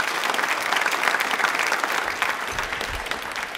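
A studio audience at a televised quiz program marking a tribal heritage day claps steadily and loudly throughout, a dense wash of applause with no break.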